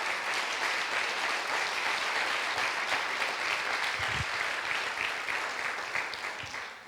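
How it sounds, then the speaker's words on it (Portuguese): A church congregation at an evening service applauds, a sustained, even wash of many hands clapping across the room that fades slightly at the close. "aplauda o nome do Senhor Jesus nessa noite"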